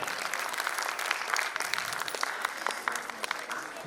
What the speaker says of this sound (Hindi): उनके लिए भी एक बार जोरदार तालियां हो जाए